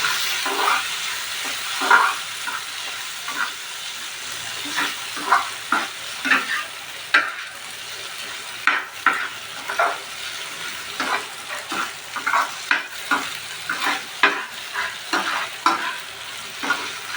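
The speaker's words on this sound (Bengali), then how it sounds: "ডিমটা দিয়ে দেবো, মিক্স করে নেবো।" Egg being stirred into pasta frying in a home kitchen pan, with a steady sizzle and repeated scraping, stirring strokes throughout.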